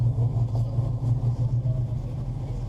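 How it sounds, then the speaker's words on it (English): Boeing 737-800 engine starting in the X-Plane 12 flight simulator, a low, steady rumbling drone with a pulsing hum, loud and continuous. "We got 2 good engine starts, ladies and gentlemen."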